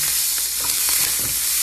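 Minced garlic and broccoli sautéing in a hot pan on an electric stove, a steady close sizzle with soft stirring scrapes running throughout, no talk.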